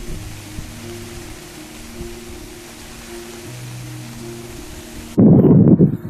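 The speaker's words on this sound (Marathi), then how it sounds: "आज पाऊसच पाऊस आहे बघा" Heavy rain at Bhandardara pours as a broad, steady wash of noise with low tonal hums beneath. It ends in a sudden loud, rough burst of close rumbling noise. No one speaks.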